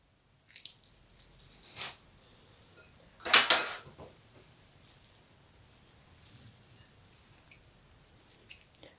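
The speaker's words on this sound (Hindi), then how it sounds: "जो खजूरें रखी हैं वो काट काट डाल लेंगे।" A knife chopping pitted dates into small pieces on a board, heard as a few sparse, soft clicks and taps, with one sharper cut standing out amid near quiet.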